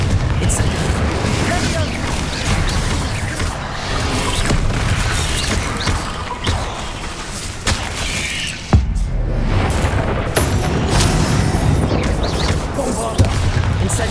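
A loud, relentless stream of magical explosions from Hogwarts Legacy gameplay, rumbling booms and gunfire-like bursts piling over one another, with a voice repeatedly calling spells over the din and a sharp blast near the middle.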